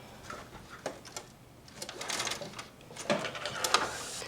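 A domestic sewing machine stitches a straight seam on quilt fabric in short bursts, a soft rapid mechanical whir rising and pausing, fairly close and with no talking.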